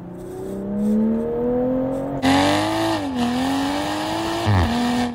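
A 2021 Toyota Supra GR with the 3.0L engine accelerates hard on canyon roads, its engine note climbing steadily through gears with a loud, close rising drone and brief dips at shifts, no talk over it.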